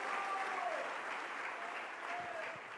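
An audience at a church service applauds together in a sustained, even wash of clapping that holds for the whole stretch, with no talking over it.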